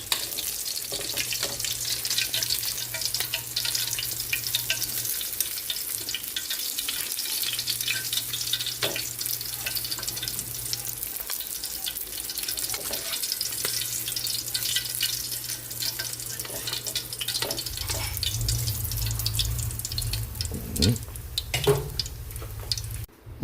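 Fish fries in a pan with a loud, continuous sizzle and spatter, joined by intermittent low hum and a few stirring clatters near the end, no talking.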